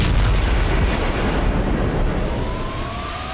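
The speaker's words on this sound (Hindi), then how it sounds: "रूस ने यूक्रेन पर 3 टन के फैब 3000 बम से हमला किया।" A massive blast from a Russian FAB-3000 glide bomb striking Kharkiv, a deep booming rumble that rolls on for seconds with sharp bursts early, fading slowly into a low sustained roar.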